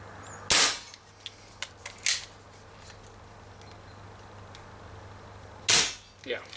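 An Umarex Marlin BB revolver fires at a tin can. Two sharp, loud shots come several seconds apart, with a few lighter ticks and clinks from the can between them in a quiet outdoor setting.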